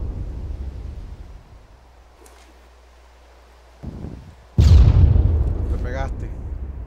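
An AT-4/RPG anti-tank rocket launcher fires outdoors with a sudden heavy blast, and the boom rolls away under wind noise. A short burst of rustling comes just before the shot, and a voice speaks briefly as the blast dies away.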